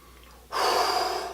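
A person takes a single long, close, loud inhaling sniff from inside a new pair of Air Jordan 1 Neutral Gray sneakers, following a quiet stretch.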